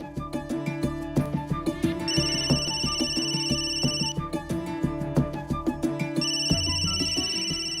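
A phone ringtone plays a repeating electronic melody with steady bell-like tones, clear and fairly close, with no talking.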